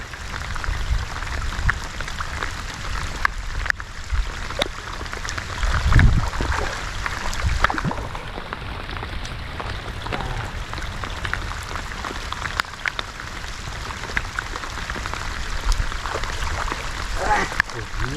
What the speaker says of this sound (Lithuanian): Žliava tas lietus, tai niekam nereikalingas.